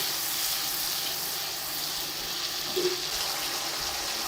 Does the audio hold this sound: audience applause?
no